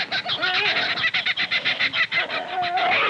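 A kookaburra in an Australian gum tree forest gives a loud, rapid run of repeated cackling notes that rise and fall for a few seconds.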